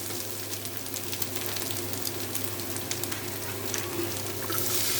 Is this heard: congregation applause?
no